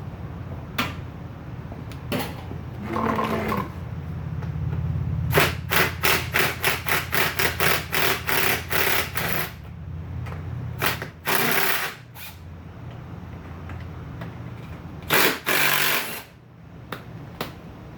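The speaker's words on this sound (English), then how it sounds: "Now we're going to unbolt the fan." Rusted bolts come off a radiator fan during a radiator replacement, heard as a ratchet wrench clicking in a fast steady run, with scattered tool clanks and metallic knocks close by, no voices.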